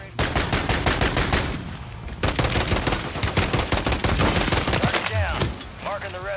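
Rapid bursts of pistol gunfire in a video game, a dense run of sharp repeated shots through the first half, then more firing mixed with game effects and whooshing sounds, loud and close.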